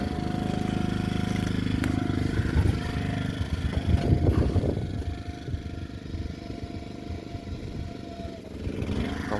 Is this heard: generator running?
yes